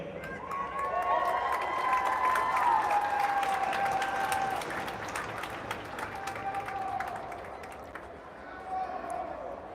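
Crowd at a University of Illinois vs. Illinois State college hockey game applauds and cheers during a senior recognition, with dense steady clapping and a long sustained cheer or whistle rising above it, loud at first and slowly easing off.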